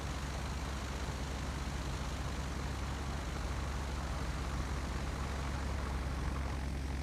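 A Douglas DC-3 taxis in a video game, its engines making a steady, dense, low drone that holds level throughout without voices.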